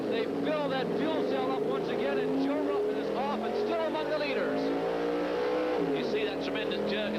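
A stock car engine at the 1982 Daytona 500 roars loudly and steadily as the car pulls away from a pit stop, with a race commentator talking over it throughout.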